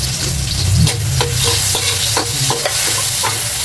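Vegetables for pinakbet are stirred and tossed in a hot pan, giving a steady loud sizzle with scraping spoon strokes throughout.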